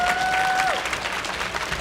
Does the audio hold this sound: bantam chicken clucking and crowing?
no